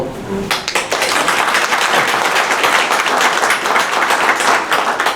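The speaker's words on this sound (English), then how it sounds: "Sorry, I didn't pause for everybody to clap." An audience at a chamber of commerce luncheon breaks into loud, sustained applause, dense clapping from many hands filling the room close by for several seconds, preceded by a brief voice.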